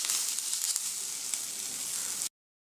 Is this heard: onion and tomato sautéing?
yes